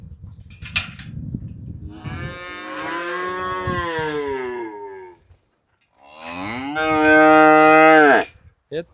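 Cattle at a livestock market where bulls are sold, giving two long, loud, close moos separated by a brief pause, with faint background noise between the calls.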